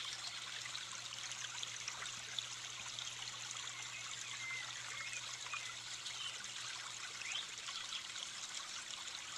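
A clear stream trickles over stones and sand, a faint, steady, even flow of water with no other sounds.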